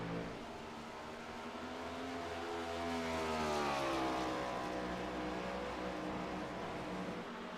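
Race cars run laps at Dover in a PC stock car racing game, a loud sustained engine drone rising and falling in pitch as the cars pass, with no voices.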